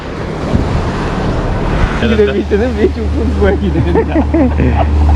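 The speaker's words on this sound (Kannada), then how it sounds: "ಮರವಂತೆ ಬೀಚ್ ಹತ್ರ ಇದ್ದೀವಿ" Wind blows hard and surf rolls at Maravanthe beach, a steady broadband roar that runs through the whole stretch, with voices chatting close to the microphone over it in the second half.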